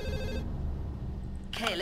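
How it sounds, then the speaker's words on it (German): A telephone rings inside a horror-adventure video game, its repeating electronic trill sounding briefly at the start of the clip and again at the end, over a low continuous game ambience. "jetzt läutet wieder das Telefon"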